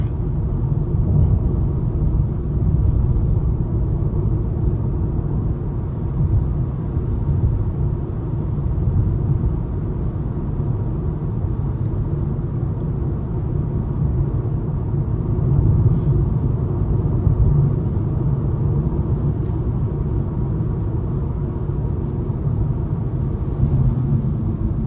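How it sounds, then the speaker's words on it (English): Steady low rumble of tire and road noise inside a 2023 Nissan Leaf S electric car while driving, a continuous broadband drone that runs unbroken throughout with no talking. "the road noise from the tires"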